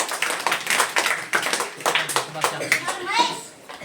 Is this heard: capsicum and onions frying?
no